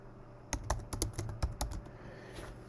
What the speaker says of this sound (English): type in Crypto Kite calculator